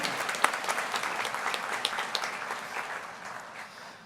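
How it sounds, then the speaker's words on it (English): Applause from the audience at a spring commencement ceremony, a moderately distant, even patter of many hands that slowly thins out. "Pause for applause, it says."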